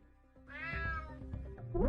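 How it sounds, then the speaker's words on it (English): A cat in the stealth game Unmetal lets out a single rising meow, close and clear, followed by a short low rustle. "Damn cat."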